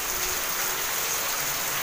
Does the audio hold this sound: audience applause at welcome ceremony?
no